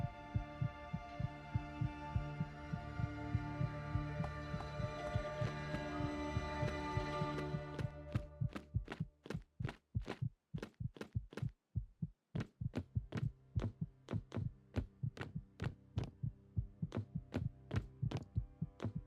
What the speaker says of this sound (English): that sound of my heart fucking thrashing the shit out of my ribcage